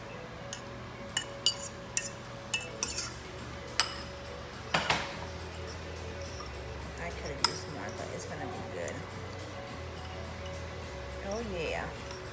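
Paprika crumb topping stirred into melted butter for homemade mac and cheese, giving light, scattered clinks and taps of a utensil against a bowl, close and fairly quiet over a low steady background hum.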